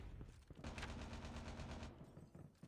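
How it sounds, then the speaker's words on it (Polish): Rapid bursts of gunfire in Call of Duty Mobile Prop Hunt rattle continuously for a couple of seconds, loud and dense, with no talking over them. "Słyszę strzały, to na pewno."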